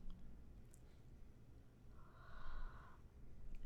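Wet sniffles from a runny nose, a couple of quick nasal snorts close to the mic over a faint background hiss, with no talking.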